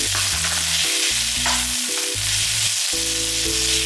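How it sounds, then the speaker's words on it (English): Instant rice is stir-fried in a pan over medium heat for kimchi fried rice, with a loud, continuous sizzle and repeated scraping and stirring strokes throughout. A low tonal hum sits underneath. "Add rice and stir fry about 3 minutes on medium heat"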